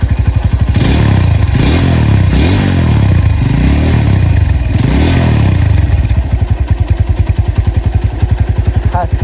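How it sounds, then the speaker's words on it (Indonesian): Honda Tiger Revo motorcycle with its GL engine revs up loud and close in several rising, throaty surges, then settles into a steady, thumping idle with a clear regular beat. "Suaranya masih jernih banget om, khas mesin GL. Kita dengerin geberannya ya."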